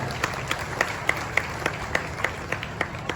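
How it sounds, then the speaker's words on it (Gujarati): An indoor community gathering breaks into steady applause for a man being honoured, with sharp claps landing in a quick, even rhythm over a dense crowd wash throughout. "પાછા એકવાર ભરતસિંહ માટે જોરદાર તાળીઓ પાડો"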